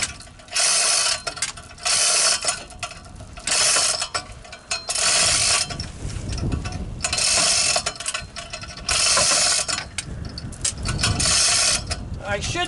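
A chain hoist ratchets in repeated bursts as its chain is pulled to inch a forklift battery into position, the close, loud clicking and rattling stopping and restarting every second or two.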